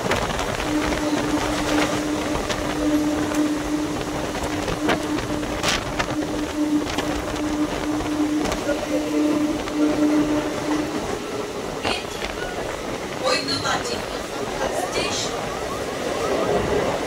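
Commuter train on the Howrah–Bandel line near Sheoraphuli, heading toward the Bardhaman branch, carrying a steady rumble of wheels and carriage noise throughout, with a sustained tonal hum and scattered clatter and squeaks.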